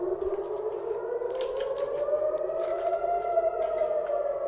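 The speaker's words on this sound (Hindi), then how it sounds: "तो सायरन बज गई है।" An air raid siren wails across Tel Aviv during an Iranian missile attack. It gives a loud, sustained tone that slowly rises and falls and fills the whole stretch.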